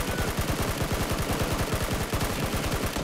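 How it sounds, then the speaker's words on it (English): Rapid automatic gunfire from PlayerUnknown's Battlegrounds, a dense steady stream of loud shots throughout with no talk over it. "I'm getting shot."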